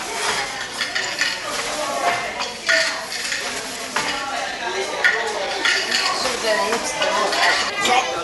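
An old loom being demonstrated gives off close, busy clattering and knocking, wooden-sounding clacks that come in uneven bursts for several seconds with no pause.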